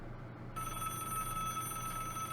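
A telephone rings in the Broken Sword video game, an electronic bell tone that starts abruptly after a brief pause and holds steadily, clear and alone.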